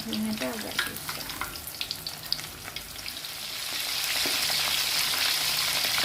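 Tofu pieces fry in hot oil for salt-and-pepper tofu, with a close, crackling sizzle and scattered pops that swell into a loud, steady hiss.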